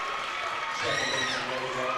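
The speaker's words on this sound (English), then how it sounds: "Hearing it from the crowd right now" Basketball crowd noise during a free throw attempt, with the student section jeering and cheering in a continuous loud wash, while a commentator talks over it.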